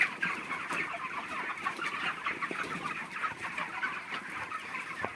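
A flock of 36-day-old farm chickens clucking steadily nearby on a rooftop, a continuous busy chorus with occasional louder squawks, no voices.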